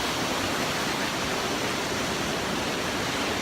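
A canyon waterfall just outside Bozeman gives a steady, broadband rushing roar with no breaks, close and even throughout, with no voices.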